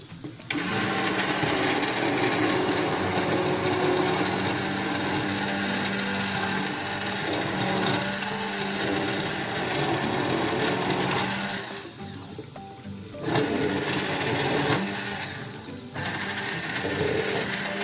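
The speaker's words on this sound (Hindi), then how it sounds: "अब इसको हम हैंड ब्लेंडर के साथ ब्लेंड करेंगे" A hand blender whirs steadily while blending a tamarind chutney sauce, pausing briefly twice near the end before whirring again. The whine is close and continuous, with no talking.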